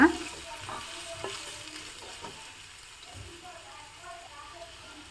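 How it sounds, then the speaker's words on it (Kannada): Masala frying in oil in a covered pan for an Iyengar-style dish, a gentle sizzle with a few stirring clatters near the start that settles into a quieter steady fry; a voice talks briefly early on. "ಮುಚ್ಚಿಬಿಟ್ಟು ಫ್ರೈ ಮಾಡ್ಕೋತಾ ಇದ್ದೀನಿ ಇವಾಗ ಇಲ್ಲಿ ಮಸಾಲೆಯನ್ನು ಫ್ರೈ ಮಾಡ್ಕೋತೀನಿ"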